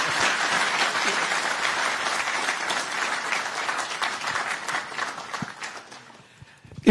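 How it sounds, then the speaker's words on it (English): An audience at a public talk breaks into dense, enthusiastic applause that holds steady before thinning out and fading near the end. "this needs a big,"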